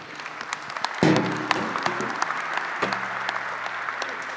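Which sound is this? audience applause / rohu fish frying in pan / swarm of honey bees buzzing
audience applause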